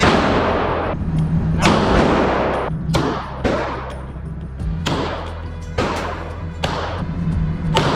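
Repeated loud gunshots at an indoor shooting range, about eight heavy booming reports spaced a second or so apart, each with a sharp crack and ringing tail, with no talk over them.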